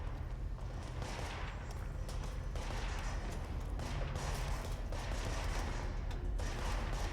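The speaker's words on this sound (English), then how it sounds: "Just go towards the sound of gunfire." Dense, continuous rapid gunfire in the video game Control crackles and rumbles steadily throughout, heavy and unbroken, with no clear pauses.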